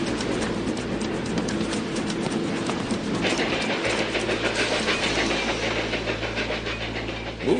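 Train wagons rolling steadily along rails in a cartoon Western about Calamity Jane, a loud continuous rumble with clickety-clack wheel beats, louder and brighter after the first few seconds, with no talking.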